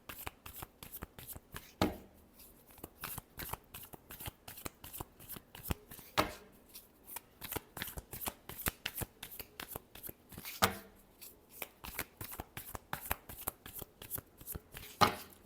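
Tarot cards are shuffled by hand close up, with quick crisp riffling clicks repeating in short bursts throughout, fairly quiet and with no voices.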